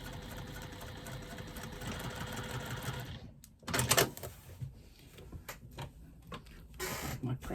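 A domestic sewing machine stitches a zipper onto a fabric lining panel of a wristlet bag, running in a steady whirring hum for about three seconds before stopping, followed by soft handling clatter.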